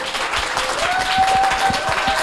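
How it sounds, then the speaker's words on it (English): Audience applause in a hall during a data science pitch event, a brief, continuous wash of clapping at fairly strong level with no break. "You all deserve a round of applause too."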